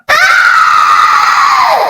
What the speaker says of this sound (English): The girl screams.